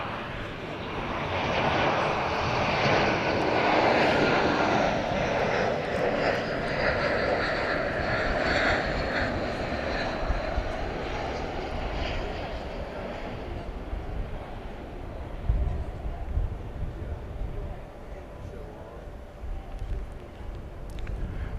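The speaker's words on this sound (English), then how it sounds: "that's American 2456 and Airbus A321." American Airlines Airbus A321 jet out of San Diego at an evening airport, a broad sustained engine roar that swells early and then slowly fades as the aircraft passes, steady and fairly loud with no talk over it.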